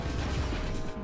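A car crashing and flipping over in the racing game Rush 2 U.S.A., heard as a dense, loud run of metallic smashing and tumbling impacts lasting about a second, with no voices.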